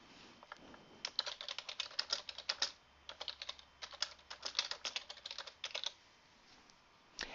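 Quick bursts of keystrokes on a computer keyboard as a note is typed into a Word document, close and crisp, with brief pauses between runs and no talk.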